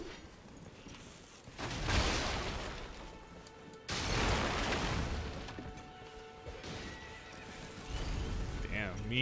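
A horse whinnies and snorts amid Elden Ring game sound effects, with hoof clops and a crash, while a person talks over it.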